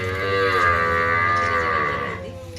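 A loud, drawn-out calf moo at a village calf show contest, one long sustained bellow close by that fades slightly at the end.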